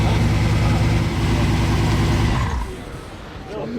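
Supercar engine at Top Marques Monaco: a loud, deep engine rumble that fades after a few seconds into outdoor crowd noise, with people talking nearby.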